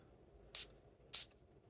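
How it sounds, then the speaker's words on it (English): Two short, hissing spritzes of a Paris Corner perfume atomizer into a box, about half a second apart, close by in an otherwise quiet room. "I'm gonna go ahead and first spray it into the box"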